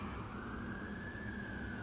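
An ambulance siren holds a steady, slowly rising wail through a street scene. It sounds distant and faint under broad traffic noise, with no voices.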